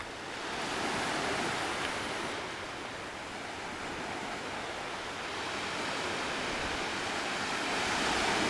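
Ocean waves washing onto a beach at Marrowstone Island, a continuous broad hiss of surf that rises and falls gently, fairly distant and steady, with no voices.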